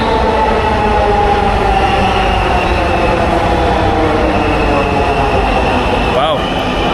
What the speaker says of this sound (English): In Dhaka, Bangladesh, here we go, get in the metro.